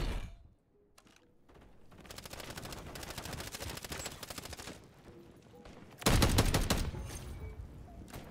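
Automatic gunfire from a Sidewinder rifle in Call of Duty: Modern Warfare 3, sustained bursts of rapid shots with a louder, denser burst near the end and a quieter gap at the start.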